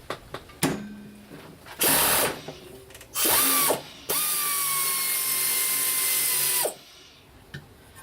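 An air-powered tool works on the relay box of a Motobécane moped in three loud, whirring bursts that grow longer, the last running about two and a half seconds before cutting off, with small clicks and clatter between them.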